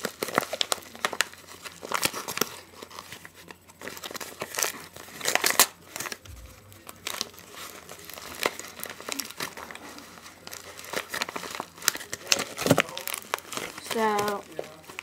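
Plastic packaging of a small computer mouse being torn open and unwrapped by hand, with irregular crinkling and ripping bursts throughout, loud and close, with a person speaking at times over it.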